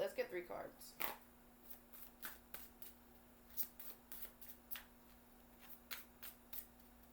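An oracle deck that doubles as a tarot deck is handled close up, with soft riffles, card flicks and taps sounding in a quiet room as cards are drawn one by one.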